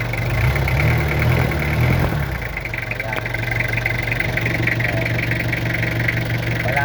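A car engine runs close by, oil spraying from the oil cap, shifting pitch as it is revved and then holding a steady, rattling drone, with a voice faintly underneath.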